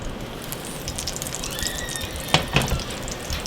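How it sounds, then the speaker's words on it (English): Cooking oil poured off from a pan in a kitchen, a steady hissing, gushing pour with a few clinks near the end. "we're going to pour off all but about 1 tablespoon of oil"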